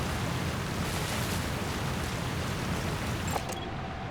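Waterfall in Metal Gear Solid V: The Phantom Pain, a loud, continuous broadband rush of falling water heard up close, steady throughout and then dipping slightly near the end, with no voices.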